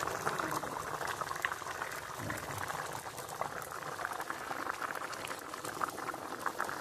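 Egg curry with fried eggs boils steadily in a pan, a dense continuous bubbling and sizzling that holds at an even level throughout with no pauses.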